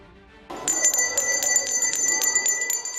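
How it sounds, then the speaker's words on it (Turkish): A school bell rings continuously after a brief quiet start, a steady bright metallic trill that stays loud throughout. "Milyonlarca öğrenci için ders zili çalıyor"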